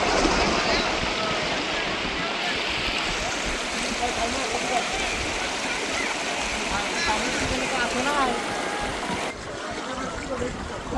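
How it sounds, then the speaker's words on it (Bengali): Steady rushing water from a waterfall flowing out of India into the rocky stream at Sada Pathar, Sylhet, a continuous broadband roar with faint voices mixed in. "এটা পানি আসতেছে ওই ইন্ডিয়া ঝর্ণা থেকে"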